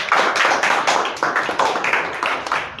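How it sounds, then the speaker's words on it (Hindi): A small group claps for a child's reading, giving a steady run of close, fairly loud hand claps with a slightly uneven rhythm that lasts a few seconds. "तालियां हो जाए"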